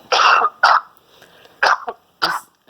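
Four short, harsh coughs, close and loud, in an uneven sequence with brief pauses between them.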